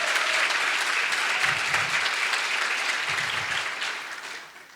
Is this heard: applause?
yes